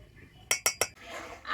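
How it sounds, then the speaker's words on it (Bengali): A spoon clinks three times in quick succession against a bowl while semolina is mixed with powdered sugar and milk powder, followed by a soft scraping stir, all fairly quiet and close. "সুজির সাথে গুঁড়ো চিনি আর গুঁড়ো দুধটা কিন্তু খুব ভালো করে মিশিয়ে নিয়েছি। তো এইভাবে করে মিশিয়ে নিতে হবে।"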